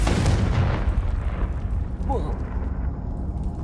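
Confringo fire-blasting spell explosion in the Hogwarts Legacy video game, a loud rumbling blast that decays over a few seconds with a brief whooshing streak partway through.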